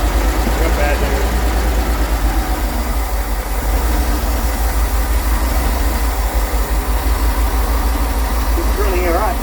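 A barn find Leyland cab-over truck's engine runs with a rough, steady low chugging idle close by, while people talk over it.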